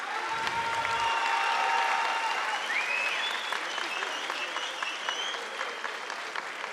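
An arena crowd at an EFA fighting championship bout applauds steadily and loudly throughout, dense clapping with scattered whistles and cheers.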